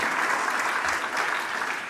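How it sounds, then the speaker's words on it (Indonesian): A church congregation at a Sunday worship service in Batam, Indonesia, gives loud, dense applause that stays sustained and even throughout, with no voices standing out. "Beri tepuk tangan lagi buat Tuhan Yesus."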